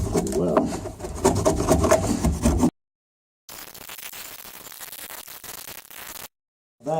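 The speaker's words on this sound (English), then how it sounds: "I'm going to be using a hammer and a chisel to get this wood out of here." Hand chisel scraping and rasping wood out of a fiberglass sailboat keel, close and fairly loud in dense scratchy bursts, then a pause and a quieter stretch of lighter scraping.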